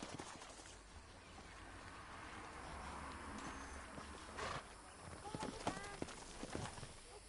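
Horse hooves clip-clopping in Red Dead Redemption 2, a steady walking clatter partly buried under game ambience and background noise, with a few sharper hoof knocks near the end.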